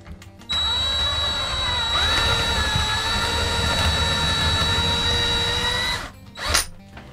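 A power drill bores a first pilot hole for a screw, held with a clamp, in one steady loud whine lasting about five seconds before it stops, followed by a brief clatter.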